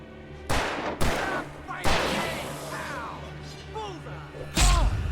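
Gunfire in the video game Alan Wake, a few loud, sharp shots spaced over several seconds, close and punchy, with game voices talking between the shots.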